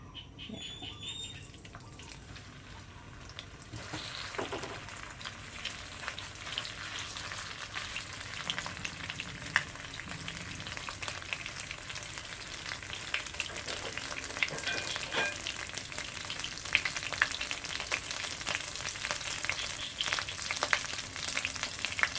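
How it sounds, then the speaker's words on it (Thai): Oil sizzles and crackles steadily in a hot wok as Thai southern-style curry chili paste fries in vegetable oil, with occasional scraping and stirring sounds; no one speaks. "แล้วก็ใส่น้ำมันพืชไปนิดหน่อยเพื่อจะผัด พริกให้มันหอมอะค่ะ"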